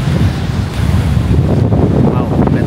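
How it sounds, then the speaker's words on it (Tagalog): Wind blows steadily at a surf beach in Dunsborough, Western Australia, a loud continuous rumble buffeting the microphone with waves washing beneath it, no talk. "Mahangin lang ngayon"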